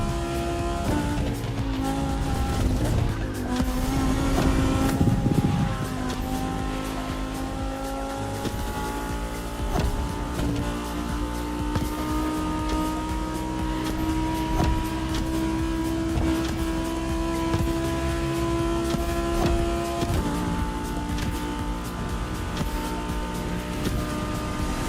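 A Lamborghini Egoista racing in The Crew Motorfest, its engine droning loud and steady with rising and shifting pitch as it accelerates, with a brief rough surge early on and no talking.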